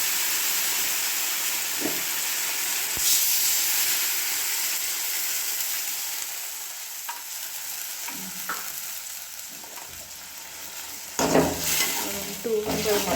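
Soaked tamarind juice poured into a hot tempering, giving a continuous hissing sizzle with stirring scrapes and a few sharp spatters near the end.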